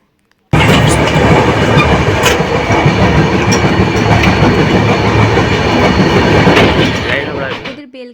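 A train rumbles and clatters steadily on its rails, loud and close, with a continuous rolling roar that fades out near the end.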